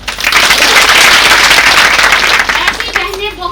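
An audience at a teachers' conference in Chitrakoot breaks into loud, dense, continuous applause that fills the whole stretch and thins slightly toward the end.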